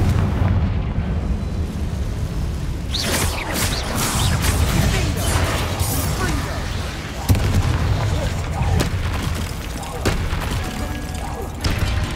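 The Confringo spell detonating in the video game Hogwarts Legacy, giving dense, rumbling explosive blasts with crashing debris, loud and sustained for several seconds, one sharp boom partway through.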